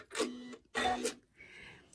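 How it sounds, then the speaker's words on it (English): A sewing machine's built-in scissor button trims the thread during free-motion quilting: two short mechanical whirring bursts, close and fairly loud, followed by a softer high-pitched whine as the cutter resets. "If I cut my thread with a scissor button, which I just did"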